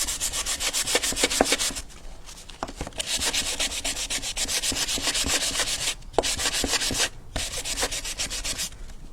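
Rough sandpaper scrubbed over a small wooden diorama house, steady loud rasping strokes in long back-and-forth runs broken by two brief pauses, close up with no voices.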